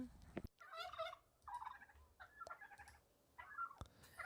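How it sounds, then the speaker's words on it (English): Several turkeys gobble in repeated loud, close bursts from a flock crowding around, with a steady rustling background between calls. "surrounded by turkeys"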